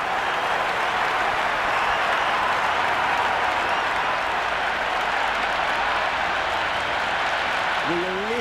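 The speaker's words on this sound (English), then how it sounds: "Will you listen to that crowd?" A dense, roaring crowd cheering and applauding at a Big Bash League cricket match in the Cricket 26 video game, continuous and loud throughout.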